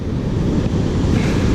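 Big ocean swell washing up on a west-facing beach, a steady loud roar of surf with wind buffeting the microphone, no talk.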